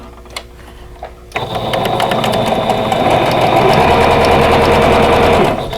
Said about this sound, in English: And I'm just going to chain piece these together.